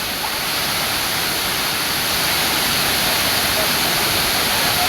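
Rushing water from a waterfall at Cachoeira do Cerrado, a steady, dense roar with an even hiss that holds at a constant loudness throughout, with no voices.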